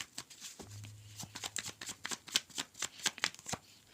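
Tarot cards are riffled and shuffled in a quick, steady run of soft slaps and flutters, close by with a low hum underneath.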